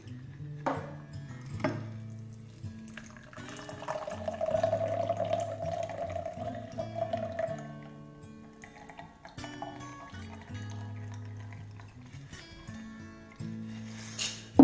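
A vodka cocktail is poured into a glass, a steady liquid stream with light clinks of glassware, heard close and alone without talk.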